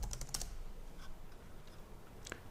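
Keyboard typing while entering a search for a WordPress theme, with a quick burst of keystrokes at the start and a few scattered taps later, close and moderately quiet with no talking.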